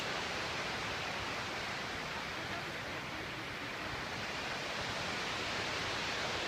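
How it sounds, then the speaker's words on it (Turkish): Gelintülü waterfall at Ayder plateau in Rize, Turkey: a steady broadband rush of falling water, constant and even with no breaks, heard alone. "İşte gelin tülü şelalesi."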